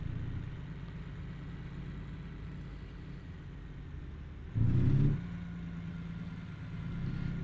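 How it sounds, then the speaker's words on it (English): A truck engine runs steadily in American Truck Simulator, a low idle-like rumble that swells into a brief louder rev near the middle before settling back to a steady hum. "But the engine does sound quite well in this truck."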